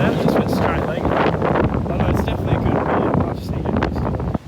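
Strong wind on a beach battering the microphone, a loud continuous roaring rush with gusty swells throughout.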